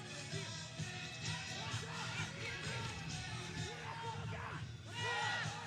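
A beach soccer crowd yells and whoops steadily at moderate distance, a continuous mass of overlapping shouts at a handball claim.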